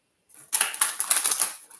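A quick riffle of cards, a rapid crisp flutter of flicking edges lasting about a second, close up with no talking.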